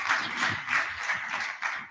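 Audience applause at the 17th Africa International Housing Show 2023, a steady, moderately loud wash of many hands clapping with faint pulsing swells and no talking.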